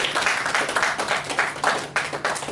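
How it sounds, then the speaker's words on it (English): Brief applause for a two-time governor of Bayelsa State at an award notification event, a burst of steady clapping from a modest gathering with a clear rhythmic texture. "I think this calls for an applause."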